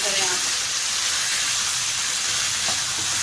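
Taro root (arvi) and minced meat frying in a pan, a loud continuous sizzle with steady hiss and faint stirring scrapes throughout.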